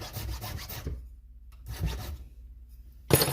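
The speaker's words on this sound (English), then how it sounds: "take your file. This is how you're supposed to do it. A few swipes off" A hand file rasps across the teeth of a full-comp chainsaw chain in a few rough strokes, a burst near the start and another mid-clip, ending in a sharp metallic scrape.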